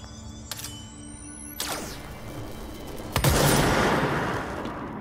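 Weapon fire in the video game Control: three separate shots spaced about a second apart, the last loudest and heaviest, with a long echoing decay.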